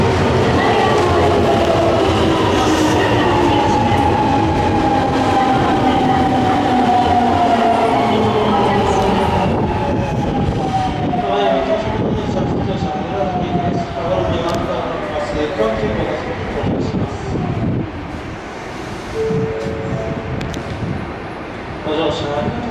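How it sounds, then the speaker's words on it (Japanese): A Nankai Main Line local train pulls into Nankai Sakai Station during the evening rush, with a loud, steady rumble of rail cars, wheel noise and squealing tones. A station announcement plays over the arriving train. "ただいま到着の電車は普通車羽村崎行きです。"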